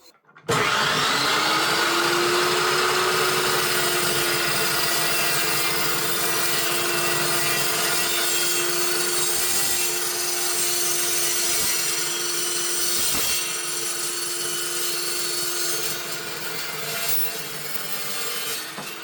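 A cold cut saw slices through thin-walled metal stock, its blade spinning up to a steady, loud whining drone with a ringing metallic edge that holds for nearly the whole cut before slowly easing off.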